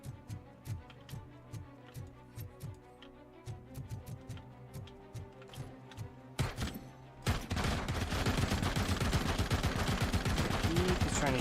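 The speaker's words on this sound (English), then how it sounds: "He's trying to shoot me through the wall." Gunfire in a RoboCop first-person shooter game: a steady run of sharp single shots over a looping backdrop, then a dense, loud burst of rapid automatic fire that continues to the end.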